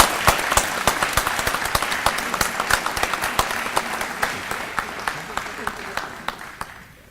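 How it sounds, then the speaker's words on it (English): An audience at a 2018 arts festival evening program applauds with many distinct, sharp claps in a brisk, uneven patter that is close and lively at first, then thins out and fades to near silence at the end. "I think everyone here deserves a great round of applause."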